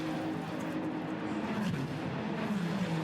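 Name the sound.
Ferrari Challenge race cars on Las Vegas street circuit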